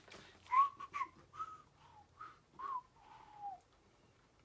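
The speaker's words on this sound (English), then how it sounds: "I got to whistle till somebody comes on" A person whistles a short tune alone, a string of clear bright notes in several separate phrases, close and fairly quiet with no other sound behind it.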